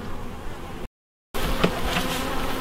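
Honey bees swarm and buzz in a dense, steady drone during an open hive inspection, close up and continuous, broken by a brief gap of silence partway through.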